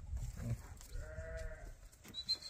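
Lambs and sheep bleat with their mothers at a village farm, a few wavering cries rising over a low rumble of background noise, with no talking.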